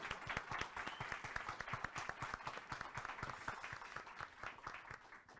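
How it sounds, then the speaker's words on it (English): Applause from a conference audience at a carbon market forum, steady dense clapping of a mid-sized crowd sustained for several seconds at moderate distance. "I think they deserve applause from us"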